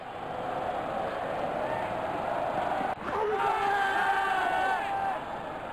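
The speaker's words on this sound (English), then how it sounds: "Crowd is going crazy." Crowd cheering in a cricket video game, a steady roaring wash of stadium noise that swells into louder whoops and cheers halfway through, with no commentary in between.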